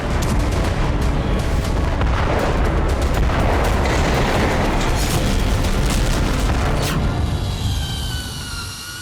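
Bombs exploding over residential areas and a refugee camp in Rafah, heard as a dense, loud, continuous roar of overlapping blasts and rumbling that stays heavy throughout, with no voices.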